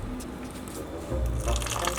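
Water running and splashing as it fills the top compartment of a homemade farm build, a steady close pour that grows louder and more turbulent midway.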